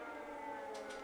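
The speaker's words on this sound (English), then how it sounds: "when there's a siren like that going off" Air raid siren wailing across Kyiv, a steady sustained tone heard from a distance over the open city, continuous throughout without speech.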